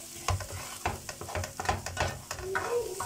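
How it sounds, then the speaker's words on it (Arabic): Onion with salt sizzles in a pan while a utensil stirs it in irregular scraping strokes, the frying hiss steady beneath the clatter. "نزلت بهم اهو. بس هسيب الكمون للاخر والفلفل، واقلب كده في البصله."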